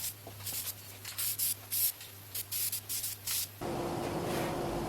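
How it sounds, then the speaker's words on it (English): Acrylic lacquer hisses from a spray can in a series of short bursts, then in one continuous spray to the end, close and fairly loud. "Just using an acrylic spray lacquer, it dries really quick"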